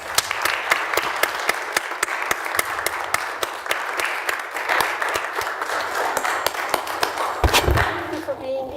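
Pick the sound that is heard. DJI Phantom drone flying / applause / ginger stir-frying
applause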